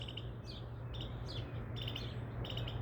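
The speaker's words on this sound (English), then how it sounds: "It must be a lot of birds are squeaking now." Several birds chirp and squeak in short bursts outdoors, bright calls repeating every half second or so over a steady low hum of background noise.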